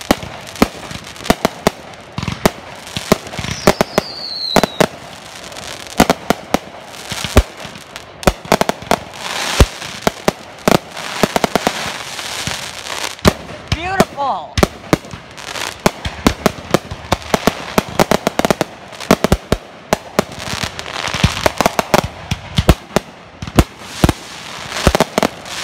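A neighborhood's Independence Day fireworks burst in a dense, continuous barrage of sharp bangs and firecracker crackles, some close and loud, others farther off, with a whistling rocket rising early on.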